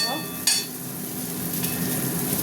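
Jackfruit fries in a wok in a steady, moderate sizzle, with a sharp utensil clink near the start and soft stirring, and no talk.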